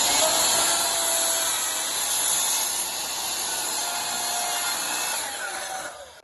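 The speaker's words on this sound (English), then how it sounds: "Then back to the miter saw to square off the ends." Miter saw squaring off the ends of a pecan wood board, a steady loud whining cut held for several seconds before spinning down, with no talk.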